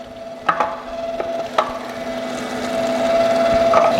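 A meat grinder working pork for Spanish chorizo riojano, a steady mechanical drone with a sustained whine, broken by a few sharp knocks and clicks as the meat feeds through.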